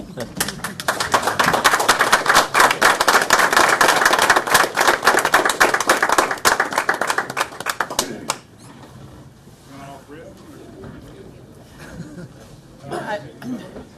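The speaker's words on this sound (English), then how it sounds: "I want to stand and applaud you for joining us" Attendees at a city board of aldermen meeting applauding new police officers, with brisk, dense clapping for about eight seconds that then stops abruptly, leaving quiet room sound and faint voices.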